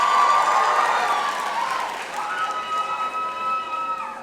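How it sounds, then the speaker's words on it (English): Audience applause and cheering at a school faculty follies show, a broad wash of clapping from a crowd that stays loud and steady throughout, with a faint sustained musical tone running underneath. "A big round of applause."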